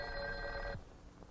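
An electromechanical telephone bell rings on a called line in a historical switching-system demonstration, one steady metallic ring lasting under a second before it cuts off abruptly, leaving quiet.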